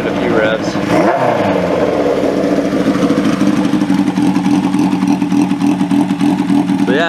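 A Honda CB750 street fighter motorcycle engine, already warm, idles with a steady throbbing rumble, loud and close, with a quick rev early on and another rising rev at the end.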